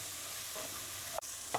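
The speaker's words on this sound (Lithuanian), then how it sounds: "Apkepiname kelias minutes, sudedame česnakus ir po to sudedame bulves. Taipogi pakepiname apie 2 minutes." Garlic and potatoes frying in a pan for a seafood chowder, a faint steady sizzle with a few soft stirring scrapes and one sharp knock, no talking.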